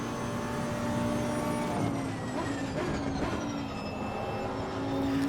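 Cockpit view of a Lamborghini GT3 with a 5.2-litre Audi V10 in Assetto Corsa Competizione, a steady droning engine note with layered harmonics holding at a fairly constant pitch, dipping slightly and rising again.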